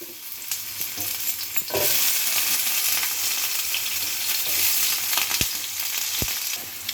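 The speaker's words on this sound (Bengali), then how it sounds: "এবার আমি ওই তেলের মধ্যেই আলুগুলো ভেজে নেব" Potatoes fry in oil in a pan, with a steady crackling sizzle that swells louder after a couple of seconds. A few sharp knocks of a spoon against the pan cut through near the end, and no one speaks.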